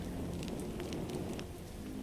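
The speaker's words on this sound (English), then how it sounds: "Raining." Steady rain patters down in the video game The Walking Dead: Saints and Sinners, a dense continuous hiss of drops with faint scattered splashes.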